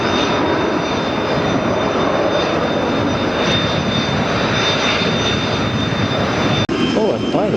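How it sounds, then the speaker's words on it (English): A Spirit Airlines jet taking off from the runway at Fort Lauderdale airport gives a loud, continuous engine roar that holds steady throughout, with a brief dropout near the end. "there's an aircraft that just came off the runway"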